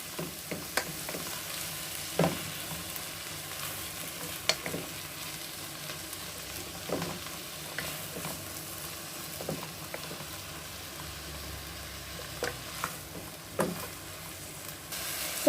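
Tomatoes fry and sizzle in a pan for a Tamil-style vermicelli veg pulao, with a steady low sizzle broken by scattered clinks and scrapes of stirring, close and moderately quiet, with no talk.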